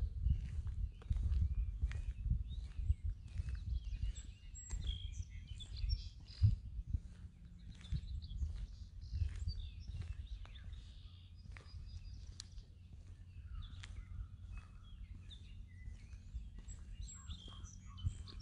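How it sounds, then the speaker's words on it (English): Tufted titmouse calling faintly in the distance at an arboretum, short repeated high notes over soft nearby footsteps on a woodland walk. "I hear a tufted titmouse"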